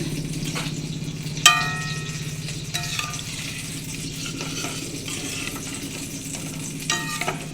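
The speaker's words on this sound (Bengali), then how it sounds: "ওখানে আলু ভাজা বসিয়ে দিয়েছি" Potatoes frying in a pan, a steady low sizzle and bubbling close by, broken by a few sharp metallic clinks of a utensil against the pan and brief stirring scrapes, no talk.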